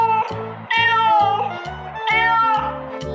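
A mother cat meows repeatedly in a series of clear, close, drawn-out calls with short pauses between them, with no talking.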